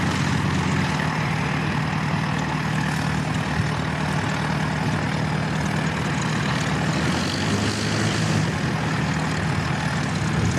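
An ATR propeller aircraft taxis at Christchurch Airport with a loud, steady engine drone that holds evenly throughout, a broad rumble with no talk over it.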